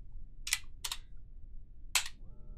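Three short, crisp bursts of keys being tapped on a computer keyboard while entering a number during a Kerbal Space Program RP-0 session, with quiet pauses between them and a faint tone at the end.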